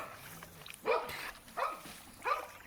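Pit bulls being bathed on a table, three short barks or yelps spaced about a second apart, fairly faint against a quiet background.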